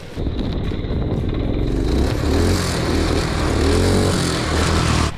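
A small engine on a homemade go-kart built from junk parts roars and revs hard, its pitch rising and falling as the throttle is worked, loud and close, holding strong for several seconds before cutting off.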